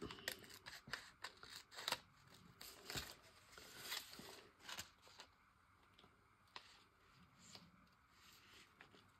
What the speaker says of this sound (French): Je vais venir découper ça avec le petit papillon rouge.